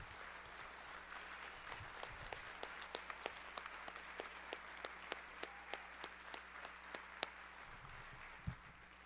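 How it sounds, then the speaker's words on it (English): A crowd applauds steadily at a jazz band spring concert, a dense wash of clapping with some louder individual claps standing out, sustained throughout and heard from a distance. "Can we give them one round of applause all together"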